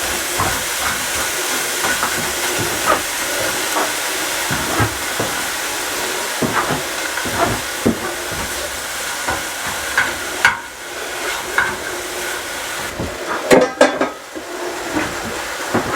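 Chili simmering hot in a pot inside a backyard shed, a steady bubbling hiss with scattered pops and a few louder clanks of the pot or spoon near the end; no talking.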